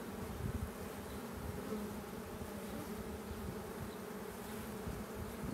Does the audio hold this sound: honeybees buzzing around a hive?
yes